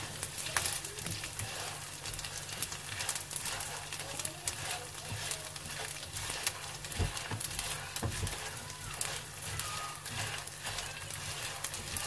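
Panjiri being cooked with corn in a pan, with a soft steady sizzle of frying running throughout, faint and continuous under a busy kitchen background.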